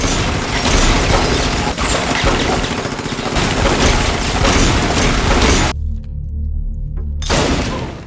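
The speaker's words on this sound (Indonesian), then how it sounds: "terjadilah aksi tembak-menembak" Gunfire erupts in a movie shootout, a dense, loud continuous barrage of shots and impacts that drops out briefly near the end before resuming.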